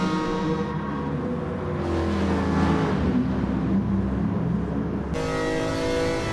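Lancia Stratos in GT Sport, its mid-mounted engine accelerating hard out of a corner, a steady loud droning roar with rising pitch changes throughout.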